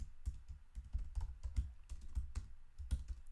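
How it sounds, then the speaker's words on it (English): Keystrokes clatter on a computer keyboard in quick irregular bursts, close and fairly quiet, with no voices. "Why I'm typing again?"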